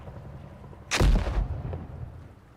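A mortar fires at a raid base in a video game: one sudden, loud, deep blast that rolls off into a lingering rumble.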